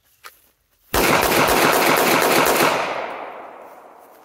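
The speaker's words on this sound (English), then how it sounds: "Let's shoot another round through it, another mag." Sig Sauer P238 .380 pistol fired from the hip: a faint click, then a loud close burst of rapid shots blurring into sustained noise that rings out and decays over about two seconds.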